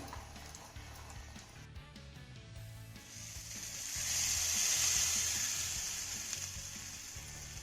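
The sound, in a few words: hot oil tempering sizzling on paste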